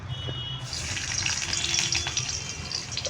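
Ginger pieces fry in a little oil in a kadai, giving a soft, steady hiss that swells after a brief quieter start, close and without talk.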